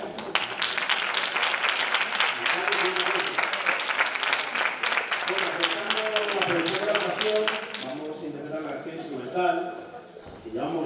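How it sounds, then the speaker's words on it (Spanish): Audience applause at a tuna music competition in Madrid, loud and dense clapping for most of the stretch, then fading as voices and talk take over near the end. "un fuerte aplauso"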